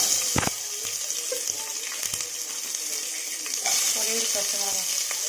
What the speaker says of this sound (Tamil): இப்போ வெங்காயத்தை சேர்த்துக்கலாம்.